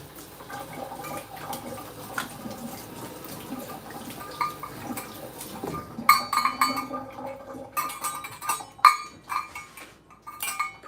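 Measuring spoons and cups being washed under a running kitchen tap, with water splashing and metal clinking together in irregular bursts, close and fairly loud.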